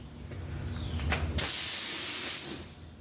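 A Rust-Oleum aerosol can sprays paint in one sustained loud hissing burst lasting about a second, standing out after a quieter stretch with low background rumble and a few faint clicks.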